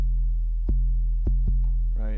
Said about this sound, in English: I've got this sub pure. This is a really great like low sine wave.